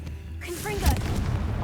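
A Confringo spell in Hogwarts Legacy lands as a short, dull explosive burst over a low rumble, just after a voice calls out.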